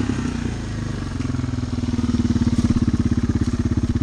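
A Honda 300 ATV engine with an axle paddle laboring up a hard clay hill: a loud, close, throbbing low chug that settles into a steady pulsing rhythm as it pulls under load.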